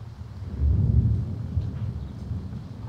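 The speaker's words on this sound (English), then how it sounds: "so the raindrops, I think, that are falling down" Rain falls in the horror video game Five Nights at Freddy's 3 as a steady, low rumbling wash of noise that swells early and continues alone throughout.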